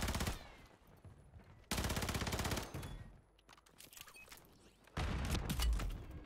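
Gunfire rattles through a Call of Duty match, with loud bursts of rapid shots alternating with quieter, scattered fire in between.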